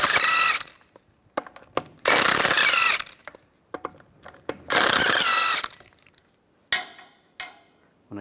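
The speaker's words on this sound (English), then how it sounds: "use a 17 millimeter socket, take the lug bolts out" A ratchet with a 17 mm socket loosens the front wheel lug bolts on a 2007-2013 Mini Cooper. Loud, rapid mechanical bursts alternate with quieter clicks and pauses, with no talking.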